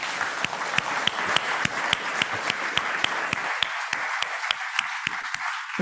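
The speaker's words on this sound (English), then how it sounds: "There's going to be a rather thunderous round of applause now." Audience round of applause at the close of a conversation event, with dense even clapping throughout and some individual claps standing out, no voices.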